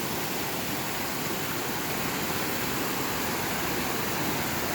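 The waterfall at McGalliard Falls Park pours over rocks, a constant broadband rushing roar, close and steady without pause.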